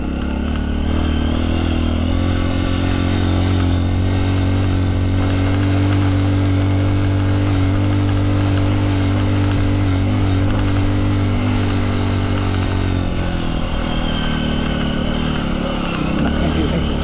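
A Honda XR150 dual sport motorcycle engine runs steadily throughout, a loud, close, continuous mid-pitched drone with a slight clattering edge and no break, as the bike is ridden briefly off-road.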